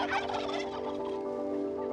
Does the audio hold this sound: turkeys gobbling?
yes